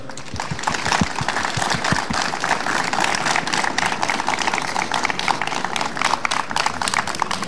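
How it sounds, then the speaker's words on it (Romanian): An audience at a Romanian commemoration of the Little Union gives sustained applause. The dense clapping runs steadily throughout, with some louder individual claps near the start. "Vă rog să-l aplaudați cu mare căldură."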